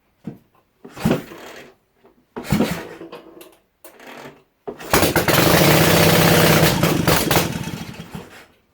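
Restored Zundapp KS600 motorcycle engine, flooded with fuel, coughing through several short cranking bursts before catching and roaring into a loud, steady run close by, with no talk over it.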